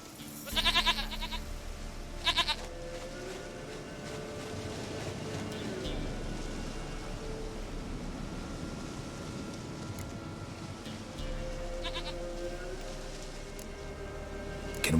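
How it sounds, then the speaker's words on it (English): Goat bleats in The Witcher 3 game, short bursts near the start and again around twelve seconds, over a steady ambient game bed with someone speaking. "Goat of mine, dearest, sweetest goat."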